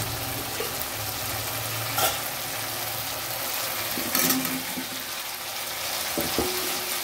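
Small new potatoes fry in a pan of cooked-down tomato masala for alur dom, giving a steady close sizzle with a few louder bursts and scraping clacks as they are stirred in.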